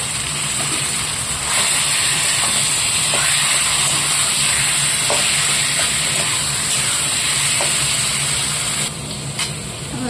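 Turmeric and a little chili powder frying in hot oil in a pan for taro greens (kochu shak), giving a steady, close broadband sizzle and hiss that runs unbroken throughout with no talking.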